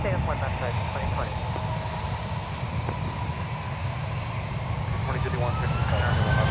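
A jet airliner rolls for takeoff at San Francisco International Airport, a broad engine roar building steadily at a distance while air traffic control radio chatter breaks in over it.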